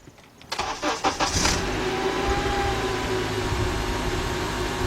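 A 2003 Honda Accord 2.4 with a misfire fault code cranks with several quick starter pulses, catches and settles into a loud, steady idle rumble up close.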